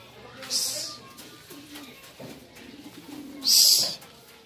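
Pigeons taking off from a house roof, with two bursts of wing flapping a few seconds apart over faint background noise and low murmuring.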